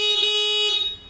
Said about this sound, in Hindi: स्टॉक हॉर्न ही देख लो बहुत जोर है